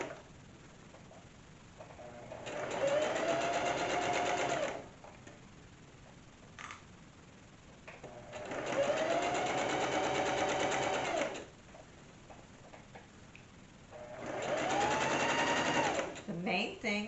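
Sewing machine stitching fabric in three steady runs of a few seconds each, a fast even whirring hum with quiet pauses between runs and faint background noise.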